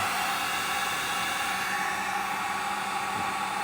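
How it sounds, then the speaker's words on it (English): A 1500 watt heat gun runs on its low setting, giving a steady, loud airy blower hiss that holds unchanged throughout with no talking. "This is a 1500 watt heat gun. I'm gonna turn it on low at first."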